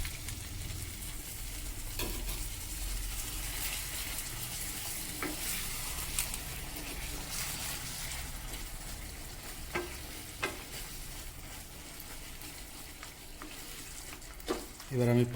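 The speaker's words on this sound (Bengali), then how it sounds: "আমি এবার ওর মধ্যে ওই জলটাকে অ্যাড করে দিলাম।" Chicken bharta with boiled egg sizzling and bubbling steadily in a pan after water is poured in, a constant close frying hiss with occasional stirring scrapes and a soft voice underneath.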